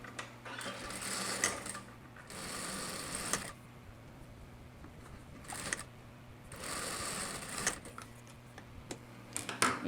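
A sewing machine stitches the shoulder seam of a long vest in fast, rattling bursts of a few seconds each, separated by short pauses, close and clear with no talk.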